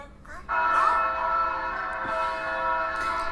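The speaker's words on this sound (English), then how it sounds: "And the wedding bells ring." A wedding bell strikes near the start and rings on with a sustained, humming resonance that slowly shimmers and fades.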